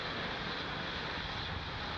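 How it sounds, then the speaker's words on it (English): A deep, continuous Falcon 9 rocket engine roar at liftoff from Space Launch Complex 40 fills the air, a dense steady rumble with no pauses or voices. "Falcon 9 has successfully lifted off from Space Launch Complex 40"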